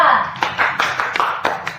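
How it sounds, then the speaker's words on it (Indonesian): A small classroom group claps for a student team after a project poster presentation, a handful of distinct, close, uneven claps over a couple of seconds, with voices in the background. "Oke, beri tepuk tangan kepada kelompok 2."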